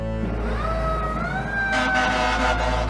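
A fire truck's wailing siren rises and holds over a loud, steady engine rumble, growing stronger toward the end as it draws nearer.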